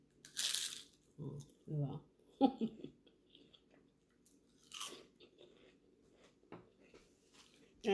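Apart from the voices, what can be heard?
biting and crunching crispy rice paper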